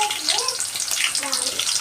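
Onions hitting a hot pan of oil for a chicken dish sizzle with a loud, bright hiss that runs steadily through the whole short moment, close by.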